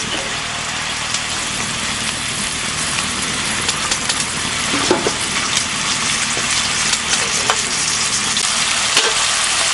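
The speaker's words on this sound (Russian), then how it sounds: "Мороженые вот огурцы. Поэтому это типа, дескать, разогревает так. Нисколько прям жарю." A continuous close sizzle of frozen cucumbers frying in a pan, with occasional small pops and scrapes, steady throughout and no voices.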